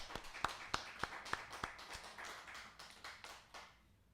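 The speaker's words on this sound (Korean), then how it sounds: "하나님께 영광의 박수 돌려드리겠습니다." A congregation claps during a Sunday worship service at a Korean Full Gospel church: a few sharp, separate claps in the first two seconds, then softer scattered clapping that fades out. The sound is fairly faint and somewhat distant.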